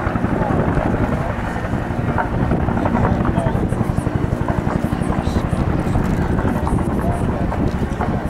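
A Huey helicopter flies during an airshow combat scenario, its steady rotor chop thumping rhythmically over wind buffeting. A commentator talks over it through a public address system.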